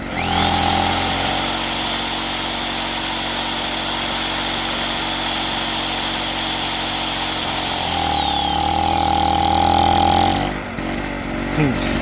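A high-pitched electric drill run on an 800-watt Honda-engined generator whines steadily at close range over the constant engine hum, briefly dropping pitch near the end before revving again.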